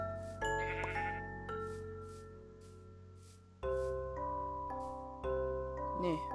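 Sheep in the video game Minecraft bleat in several separate calls, each a wavering tonal cry starting abruptly and trailing off, close and clear with faint jingling tones in between and no talking.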